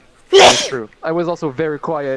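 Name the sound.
person sneezing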